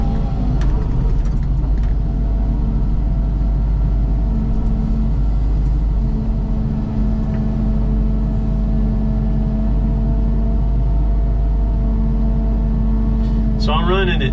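A Caterpillar 308E mini excavator with a 32-inch bucket idles at mid throttle, its diesel engine giving a steady, close, low rumble with a constant hum throughout and a brief rise near the end.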